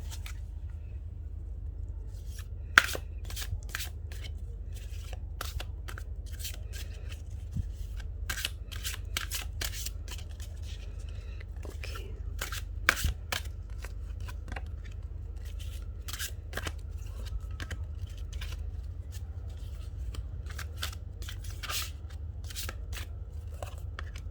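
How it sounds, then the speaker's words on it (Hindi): Tarot cards shuffled by hand at close range, a steady run of crisp riffling snaps and soft slides with a few sharper clicks, with no talking. "कार्ड्स वैसे मैंने बहुत अच्छे से पहले शफ़ल कर देती हूँ, बट फिर भी थोड़ा लगता है कि अच्छे से और शफ़ल हो जाए"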